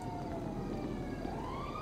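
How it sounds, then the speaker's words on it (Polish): A police car siren wails continuously in the GTA video game as the player is being chased, with the rising and falling tones steady over a low, dense game-engine rumble. "Matko, już mnie policja goni."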